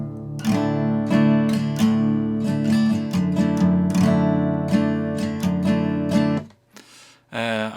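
Guitar strumming two chords for the Cyberpunk scooters song, left unmuted so the strings ring fully, in a steady rhythmic pattern of bright, sustained strums that stops near the end, followed by a last short strum.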